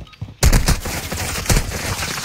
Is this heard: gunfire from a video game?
yes